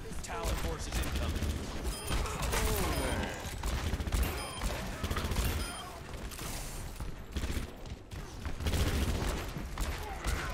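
Rapid bursts of gunfire and combat effects in the video game Overwatch, dense and loud throughout, with game voices mixed in underneath.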